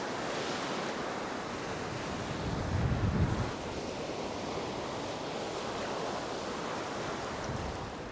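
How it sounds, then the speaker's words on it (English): Ocean surf breaks steadily on a beach at twilight, a continuous wash of waves with constant wind buffeting the microphone and a fuller surge near the middle. "So really just got out behind those breaking waves."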